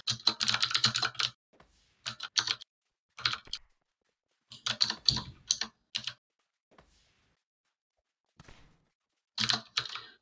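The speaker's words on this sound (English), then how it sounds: "I know my keyboard is so fucking loud." A loud computer keyboard clatters in bursts of fast, close typing, with pauses of silence between flurries and no talking over it.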